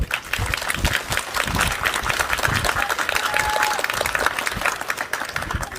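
A crowd at a press conference at Ulsan's Suam market applauds with dense, continuous clapping, close and loud, holding steady for several seconds.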